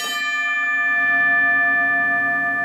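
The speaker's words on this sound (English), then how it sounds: "release this spring-loaded hammer, striking the bell." A spring-loaded hammer strikes the alarm bell on a horse-drawn fire engine once, giving a loud metallic clang followed by a long, ringing, slowly fading tone heard alone.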